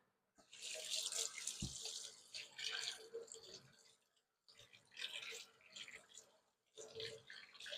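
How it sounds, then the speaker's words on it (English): Hands rinsed under a running outdoor tap, bursts of splashing water starting and stopping in three stretches with brief pauses between, close by, with a low voice faintly in the background. "Let me rinse my hands."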